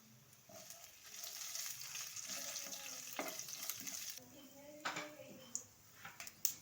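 Curry leaves hit hot oil already holding cumin, dried red chillies and chana dal for a masala dosa filling, giving a soft, moderate sizzle with a few sharp pops and clinks of a utensil.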